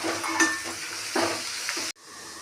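Onions, ginger-garlic paste, bay leaves and mushroom pieces cook in a pan with a soft close sizzle and occasional stirring scrapes. The sound drops out abruptly near the end.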